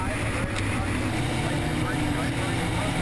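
A hydroplane race boat engine roars from onboard during a heat at San Diego, a dense continuous high-powered drone with rushing water and wind noise, steady and loud throughout.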